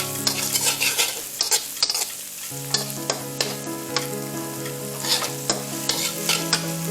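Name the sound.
stir-frying vegetables for fried rice on high heat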